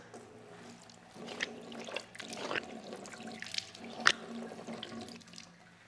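Running water splashes near a sink during wudhu ablution while the mouth is rinsed, with a steady faucet flow broken by several louder splashes and sloshes.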